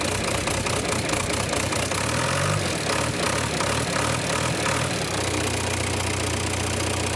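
An old 4-litre naturally aspirated drift car engine runs loud and close, rough and revving at first, then settling into a steady, low idle rumble.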